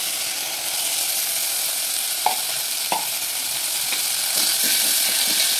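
Mint leaves frying in oil in a pan for tomato chutney, a steady close sizzle with a few soft knocks from stirring.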